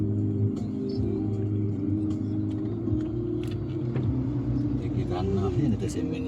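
Steady low road rumble of slow-moving cars and a bus in a traffic jam between Bukittinggi and Padang Panjang, heard from inside a travel vehicle, continuous and moderately loud with people talking over it.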